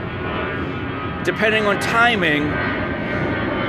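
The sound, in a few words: airplane flying overhead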